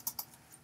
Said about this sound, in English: I'm going to type them